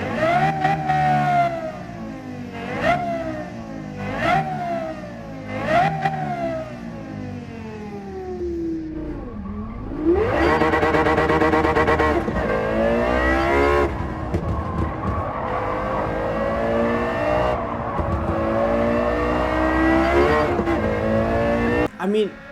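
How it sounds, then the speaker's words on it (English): A high-revving V10 engine of a Lexus LFA in the video game Gran Turismo 7 screams, with several quick blips of the throttle followed by long, rising full-power revs, loud and sustained. "hearing that noise from the high revving V10 engine"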